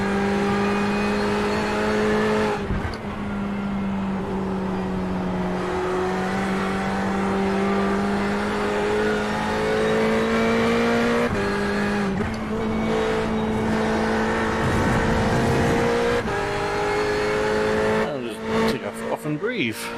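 A race car engine in the iRacing sim drones at steady high revs with brief lifts and upshifts through a chicane, loud and continuous, while someone talks over it.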